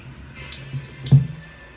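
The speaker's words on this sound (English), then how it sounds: "You can see the faucet is kind of like a waterfall faucet." A waterfall faucet in a modern hotel bathroom runs with a soft, steady wash of water, quiet and close, with one brief splashing swell near the end.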